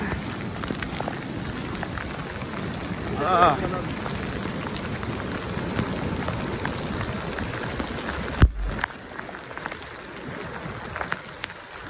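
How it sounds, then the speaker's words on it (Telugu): Steady rain hissing down across Calangute beach in Goa, constant and moderately loud, with a brief low thump near the end and a quieter patch after it. "ఇదొక థ్రిల్ వర్షంలో బీచ్కి."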